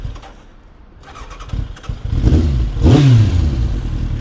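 A Kawasaki ZX9R motorcycle engine cranks without catching at first, then rises into a loud, close rumble that swells near the end.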